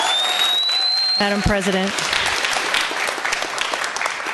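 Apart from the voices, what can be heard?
audience applause at Board of Supervisors meeting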